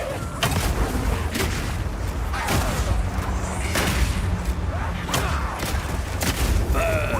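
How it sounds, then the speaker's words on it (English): Oil set alight by explosions in the video game Path of Exile 2, heard as repeated loud booming blasts and crackling bursts throughout. A voice talks over them at times. "Any burning enemy or explosion will ignite the oil, causing extra burning damage."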